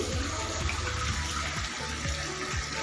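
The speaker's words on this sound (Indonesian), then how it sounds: "aliri dengan air mengalir melalui tabung" Tap water runs continuously through an inhaler tube, a steady close splashing rush with a faint rhythmic gurgle beneath it, no voices.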